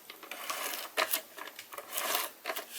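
Short sticky rasping pulls repeat close by, a tape-gun dispensing adhesive strips with soft rubbing in between.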